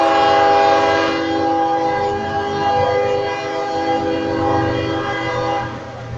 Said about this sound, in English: It's the CSX train.